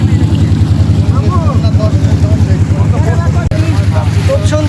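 Rhythmic low throbbing and water sloshing from a fully loaded boat pushing forward across a beel wetland, loud and close, with steady pulsing and a voice talking over it.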